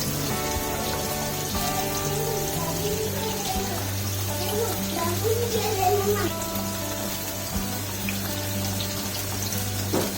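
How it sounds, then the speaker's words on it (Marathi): Pomfret fish fry in hot oil with a steady, even sizzle running throughout, under background music and a voice talking. "तेल गरम झाल्यावर टाकले की एकदम मस्त तिथे तळून होतं फ्राय होतं"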